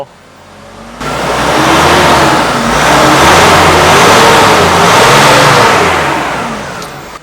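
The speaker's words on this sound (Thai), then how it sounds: "เสียงวิทวิทคือเสียงเทอร์โบนะ" A Nissan Navara NP300 2.5 pickup engine revs steadily and loudly for several seconds, with a faint rising and falling turbocharger whistle over the engine rumble, close by.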